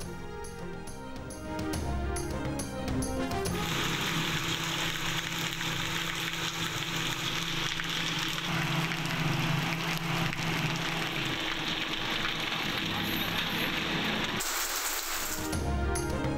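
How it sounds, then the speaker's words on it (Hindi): Light rain falls across parts of Karachi, a steady broadband hiss of drops that runs on evenly for many seconds after a brief musical opening, with no voices over it. "कराची के मुख्तलिफ इलाकों में हल्की बारिश"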